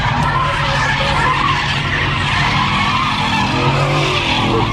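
Car doing a burnout at Irwindale drag racing night, a loud, sustained roar of skidding, squealing tires mixed with engine noise, heard from close by.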